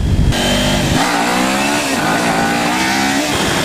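A Kawasaki Ninja 400 revs hard in first gear, its engine note climbing steadily and loud, close, and continuous with no break.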